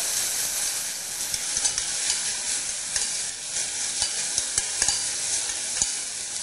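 Steady sizzling and frying hiss from onions sautéing in a pot for potato soup, with occasional stirring clicks and scrapes, close and continuous with no talking.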